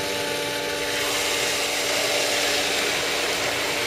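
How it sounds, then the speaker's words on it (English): A pool pump motor labors under suction from throttled main drains, giving a loud, constant whining drone with a steady tonal hum and broad rushing noise, uninterrupted and alone. "Do you hear the strain, the change of pitch in the motor?"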